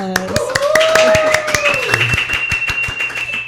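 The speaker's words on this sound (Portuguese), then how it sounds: "Uma salva de palmas." A live audience claps and applauds a guest's introduction over sustained music tones, the clapping steady and close throughout.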